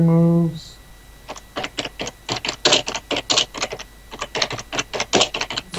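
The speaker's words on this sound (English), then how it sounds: "Typing." Rapid keystrokes rattle on a computer keyboard in a quick, uneven stream of sharp clicks, close and fairly loud. A short tone sounds just before the keys start.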